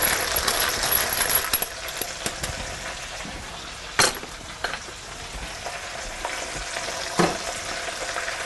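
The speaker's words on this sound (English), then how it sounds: "I'm going to grind some black pepper in there." Black pepper ground from a mill over chopped vegetables and prosciutto in a pan, a faint gritty crackle with a few sharp clicks and knocks, no voices.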